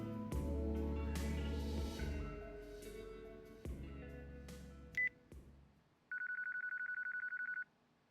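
Telephone keypad tones from the video game Yakuza 4: a burst of game music and effects, then a short beep near five seconds and a steady sustained dial tone lasting about one and a half seconds at the end.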